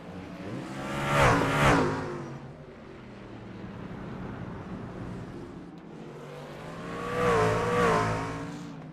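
Race trucks pass on an oval track at a night heat race: two loud engine roars sweep by close, each with a rising and falling pitch, and a distant engine drone fills the gap between them.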